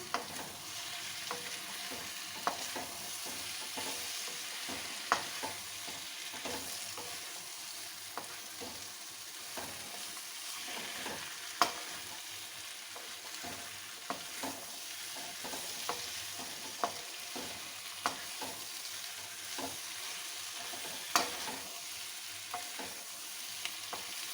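Chopped bell peppers (capsicum) fried in a spiced oil tempering for a Shimla mirch sabzi, a soft, steady sizzle under regular clicks and scrapes of a spoon stirring the pan, with no talking.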